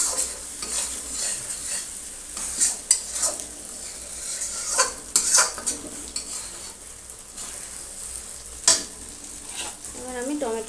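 Spice masala fries in oil for a roti and tadka dinner, a continuous sizzle broken by repeated scraping and clinking as a utensil stirs the pan, with a few sharper knocks.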